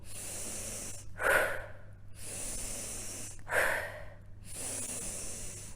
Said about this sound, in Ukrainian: Видох не інтенсивний, природній.